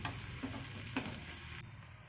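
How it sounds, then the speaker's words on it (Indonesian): Minced shallots with cumin and crushed garlic fry in a pan, a soft continuous sizzle broken by two quick stirring taps, quiet and close. "Jadi saya tumis."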